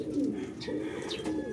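A pigeon in a loft gives low, rolling coos close by, two or three soft throaty phrases in quick succession with faint chirps behind.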